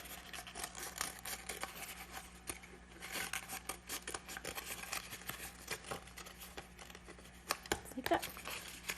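Scissors cut through paper along a dragon puppet's neck, giving a soft rapid series of close snips and rasping scrapes over low background hum, quiet throughout.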